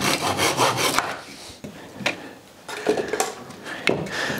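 Hand saw cutting thin wood strips for Japanese kumiko lattice work, a series of close rasping strokes in uneven bursts with short pauses between cuts.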